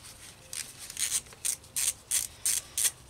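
A ratchet clicks as it undoes the 8mm bolts on the slave clutch cylinder of a KTM Superduke 990 LC8 motorcycle, close and moderately quiet, in a steady series of short bursts.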